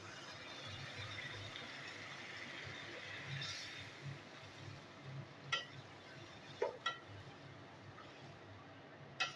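Rajma and chana dal go into a pan of fried masala, bringing a soft, steady sizzle with stirring and a few sharp clinks of a utensil against the pot near the end.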